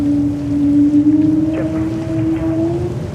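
A JetBlue A220-300 airliner with Pratt & Whitney 1500 engines near JFK airport gives off a loud, steady tonal whine that drifts slightly upward in pitch over a broad rumbling roar.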